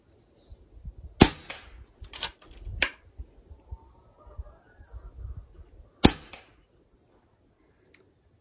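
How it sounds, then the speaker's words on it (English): .22 caliber FX Wildcat MK3 air rifle firing NSA slugs: sharp, loud cracks with clear gaps between them, three close together early and a lone shot later, plus a faint tick at the end, with light handling noise between shots. "Now let's do 5 shots since I got the ammo."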